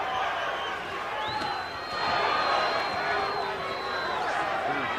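Boxing arena crowd at a Shane Mosley vs Wilfredo Rivera fight, a broad roar of cheering and shouts that swells in the middle, with a whistle tone cutting through and voices talking over it.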